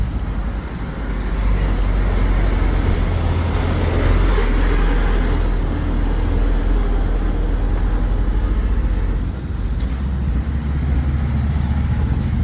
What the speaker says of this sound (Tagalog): Sige, daming sasakyan dumadaan.